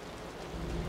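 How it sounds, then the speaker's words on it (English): Steady rain in a video game patters in a soft, continuous wash, fairly quiet, with a low rumble swelling near the end. "The rain's getting heavier."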